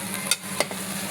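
Okra curry with green chilli and garlic frying in a pan, a soft continuous sizzle broken by a couple of quick scraping stirs, close but fairly quiet.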